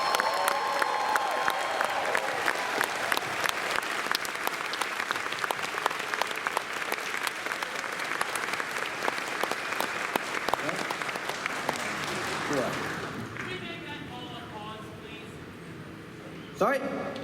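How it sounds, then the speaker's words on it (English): Convention crowd applauding the event's staff members at a closing ceremony: dense, sustained clapping with scattered cheers fills most of the span, then fades as a voice speaks near the end. "Could I please get an applause for all of them?"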